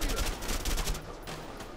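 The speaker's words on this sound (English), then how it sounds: "Quit shooting me!" Enemy gunfire in the video game A Way Out crackles in rapid bursts over roughly two seconds, loud and dense at first, then thinning slightly.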